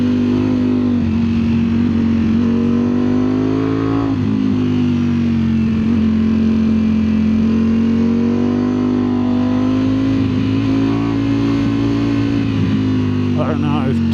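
2025 Ducati Streetfighter V4S motorcycle ridden out of corners, a loud steady engine hum with pitch rising and dipping as it pulls through gears, heard close with a rider talking over it.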